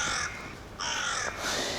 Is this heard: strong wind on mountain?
no